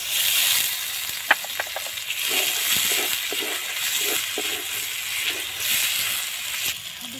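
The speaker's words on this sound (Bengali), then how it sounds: "টমেটোটা নিয়েছি, টমেটোটা দিয়ে দিচ্ছি" Tomatoes drop into a hot pan of frying ginger, garlic and onion, giving a steady close sizzle with a few sharp crackles and soft stirring scrapes, no voices.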